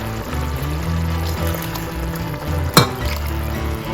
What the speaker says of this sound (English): I'm going to add just a little more water.